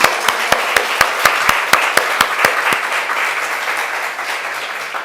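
A church congregation applauds a visiting missionary during a Sunday worship service. A run of sharp, evenly spaced claps opens it, then merges into steady, full applause that slowly fades.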